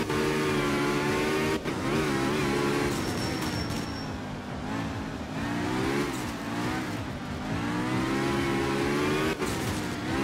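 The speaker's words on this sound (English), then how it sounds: "I am really bad at driving this car, but also Japan in the wet is difficult." A rally car in the art of rally video game drives a wet Japan stage, its engine droning and revving steadily and loudly throughout, with wavering pitch and short bumps along the way.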